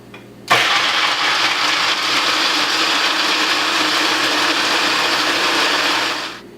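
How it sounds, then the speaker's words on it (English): A blender whirs loudly and steadily for about six seconds, blending almond milk with a small pinch of cardamom, then cuts off abruptly with no talking. "And then we are ready to blend up our almond milk."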